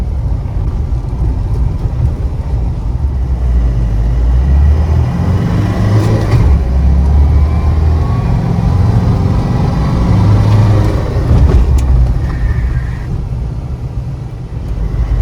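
A Mahindra Bolero BS4 rolls along an off-road track with a steady, loud diesel engine drone and rumbling wheels over rough ground, and nobody speaks.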